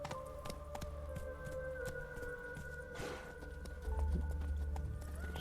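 Hooves of the horse Roach clop steadily in a gallop in The Witcher 3 video game, a continuous rhythmic pattern under low game ambience.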